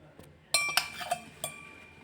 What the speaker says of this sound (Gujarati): હું એલ્યુમિનિયમનો ડબ્બો લાવું છું હવે એની અંદર હું બે ચમચી જેટલું તેલ નાખીશ